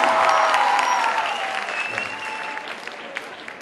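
Crowd applause at a Mumbai eco-friendly Ganesh event, a dense steady clapping that starts loud and gradually thins and fades over a few seconds, with faint voices and cheers mixed in.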